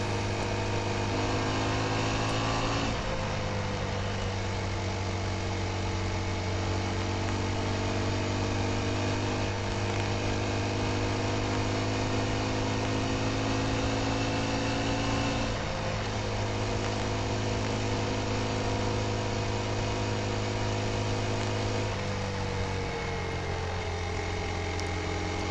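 A car motor running, a constant low engine drone with steady tonal hum and small pitch shifts, heard from inside the vehicle without talk.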